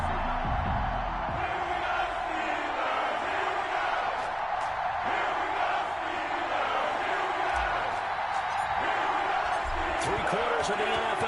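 A stadium crowd cheers steadily before a football game between the London Black Knights and the Pittsburgh Steelers, a dense, loud roar of voices and whoops that holds throughout with thuds and bursts mixed in and an announcer talking over it.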